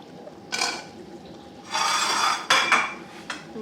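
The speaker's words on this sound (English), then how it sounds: "I'm just going to try poke it with a knife" A knife pokes and scrapes at boiled potatoes in a metal pot, giving several short, bright metallic scraping bursts with quiet gaps between them, close and fairly loud.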